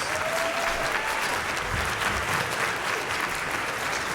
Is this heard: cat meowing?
no